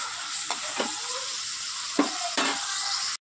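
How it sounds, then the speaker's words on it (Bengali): Onion, tomato and sesame masala fry in a pan with a constant sizzle, broken by a few sharp scrapes as the mixture is stirred. "এবার এটা একটু আমি ভাজা ভাজা করে দিয়ে আসছি।"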